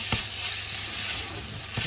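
Ground beef fries in hot oil, a close, continuous crackling sizzle with a couple of soft stirring scrapes.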